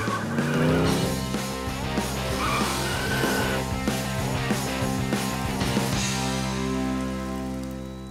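Cartoon toy trucks racing, with a dense, loud wash of engine roar, tire squeals and skids under music throughout the stretch.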